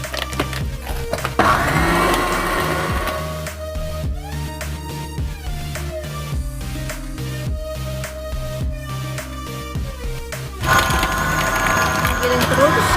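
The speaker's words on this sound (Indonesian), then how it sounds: "Giling terus sampai halus, sampai es batunya mencair semua" Meat and ice cubes being ground for Indonesian bakso urat in an electric grinder, a loud steady motor whir with chunky rattling and churning. The grinding runs continuously and the pitch shifts as the contents break down.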